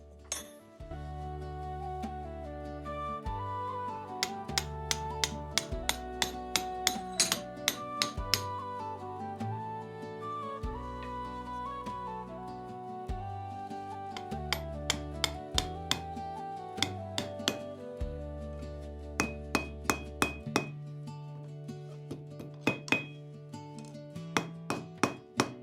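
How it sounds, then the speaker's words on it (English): Hot steel for a dragon candle holder's jaw is forged on an anvil, with steady rhythmic hammer blows ringing sharply in a continuous series of metallic clinks over about twenty-five seconds, up close and with no talk. "The lower jaw I'm gonna open up with a chisel when it's hot, and I'm gonna forge out like a more tongue-like lower jaw."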